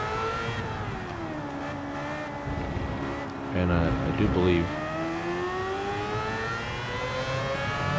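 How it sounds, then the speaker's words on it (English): A race-modified rotary-engine touring car in Gran Turismo 7 on PS5 drones with a steady, rising and falling engine note, swelling briefly to a louder rev midway, while someone talks over it. "And the sound of a rotary engine,"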